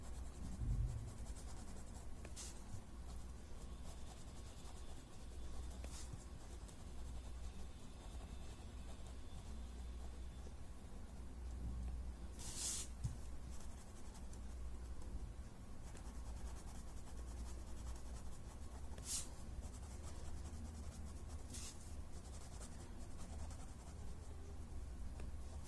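A pen draws tangle stripe lines on paper, giving a faint, continuous scratchy stroking with occasional louder ticks as strokes begin, heard close up over a steady low background hum.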